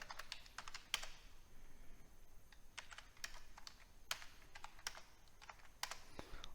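Fingers type on a computer keyboard to enter data into a program, making a steady stream of close, quiet key clicks with a few sharper taps.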